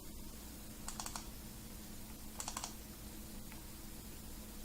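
A keyboard shortcut typed on a computer keyboard, two brief clusters of quick key clicks and one faint tap, quiet and near against a low steady room hum.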